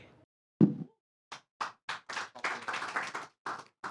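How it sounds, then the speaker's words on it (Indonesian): Scattered claps ring out in an Indonesian TV talk show studio, starting as a few separate sharp claps, then a brief, uneven burst of several people clapping, with near-silent gaps between. "Kenapa harus tepuk tangan?"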